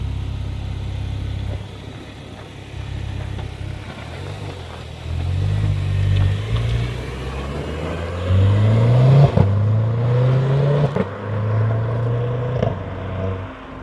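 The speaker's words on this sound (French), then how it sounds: "Maintenant je vais écouter l'acra de dehors." A Renault Clio 4 RS Trophy with an Akrapovič exhaust heard from outside, a mid-pitched engine idling then revving and pulling away with rising tone, fairly loud and close with no talk.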